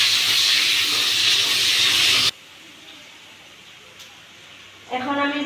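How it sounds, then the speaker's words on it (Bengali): Onions dropped into hot oil in a pan, a loud steady hissing sizzle for about two seconds that cuts off abruptly to a quiet room, then another burst of sizzling near the end. "এখন তেল গরম হয়ে গেছে, এখন আমি দিয়ে দেবো পেঁয়াজ।"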